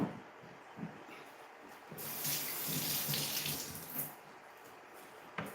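Tap water runs steadily into a sink while vegetables are rinsed for a stir-fried spaghetti dish, making a continuous close splashing hiss that grows louder and more forceful midway through.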